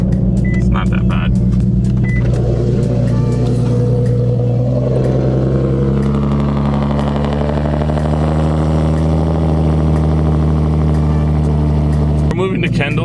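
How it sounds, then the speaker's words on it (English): Nissan Nismo engine idling just after a cold start, a loud steady low rumble that settles and shifts pitch slightly over time, ending with a brief burst of louder noise. "Let's give you guys an actual cold start."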